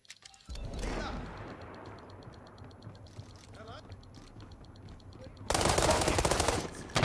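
Video-game gunfire comes in two bursts of rapid automatic shots, a short one near the start and a louder, denser volley near the end, with quieter game noise in between.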